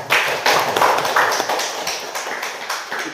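A short burst of applause from a group at a church meeting, steady and lively clapping that slowly thins out over a few seconds.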